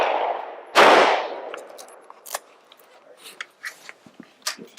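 A single sharp, loud gunshot from a young child's first firearm cracks at an outdoor shooting range. Faint clicks and clattering handling noises follow.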